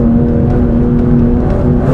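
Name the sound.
Aston Martin Vanquish 2025 engine accelerating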